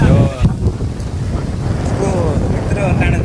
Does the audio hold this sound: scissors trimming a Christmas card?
no